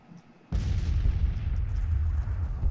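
Artillery fire in the Civil War strategy game Grand Tactician, with smoothbore Napoleon guns: a sudden heavy boom that rolls on as a deep, sustained rumble of distant cannon fire, with no voices over it.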